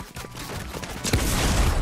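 Rapid bursts of Fortnite gunfire rattle close by, sparse at first and then growing into a dense, louder volley in the second half.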